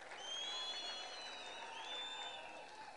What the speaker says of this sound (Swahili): mpigeni makofi.